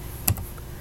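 A single computer keyboard keystroke clicks sharply and close by, typing part of a formula into an Excel spreadsheet, with a fainter tap just after.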